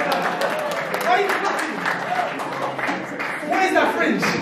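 A small audience at a stand-up comedy show at Queen Mary University claps and cheers steadily, a dense moderate wash of applause with voices mixed in.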